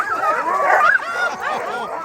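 Excited sled dogs from a twelve-dog team in Alaska yip and bark in quick overlapping bursts, close and loud, with whimpering whines between calls.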